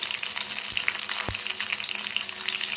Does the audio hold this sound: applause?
no